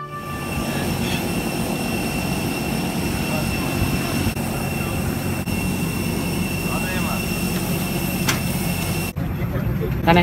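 Steady broadband roar of an airplane's jet engines in flight, heard from inside the cabin, continuous and loud for the whole stretch, with faint voices in the background.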